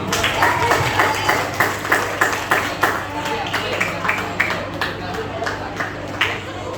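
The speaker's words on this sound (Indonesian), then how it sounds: "Ya, coba tepuk tangan dulu dong." A school audience applauding steadily, many hands clapping in a dense, continuous patter that holds at an even level throughout.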